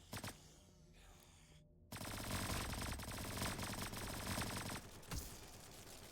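Automatic gunfire from a weapon in the Roblox video game, a loud dense burst of rapid shots lasting several seconds after a brief quiet lull, with no talking.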